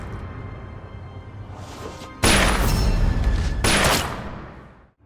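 Gangsters' gunfire in a Thai mafia action film comes as a sudden loud burst of rapid shots, then a brief pause, then a second burst that fades out.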